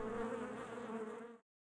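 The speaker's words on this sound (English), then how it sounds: "You can hear the buzz in the orchard of the bees" Bees buzz in a California almond orchard during pollination: a steady, dense droning hum from many insects, fairly close and even, cutting off abruptly near the end.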